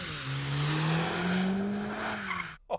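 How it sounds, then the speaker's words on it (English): An AMG A45S slides sideways in a drift, its tyres squealing loudly in a long sustained wail that drifts slightly in pitch before cutting off abruptly. "Oh, it's going sideways. All AMGs should be able to drift, and this one can too."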